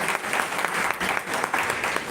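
A classroom audience of college students claps for a student in a short, steady burst of dense applause, heard close and alone.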